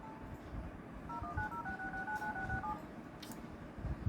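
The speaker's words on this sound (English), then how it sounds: "Now all we need to do is find the emergency phone." Push-button tones of an emergency phone aboard an airplane being dialed, a quick run of clear, close beeps in steady rhythm over a constant low cabin hum.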